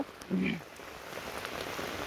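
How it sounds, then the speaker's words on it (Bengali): Steady heavy rain hisses on the ground in a continuous wash, with a brief low murmur near the start. "দেখেন কি পরিমাণ বৃষ্টি"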